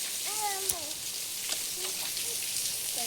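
A pot of freshly gathered clams boils outdoors in the open countryside, giving a faint, crackly bubbling with scattered pops, while bird-like chirps ring out above it.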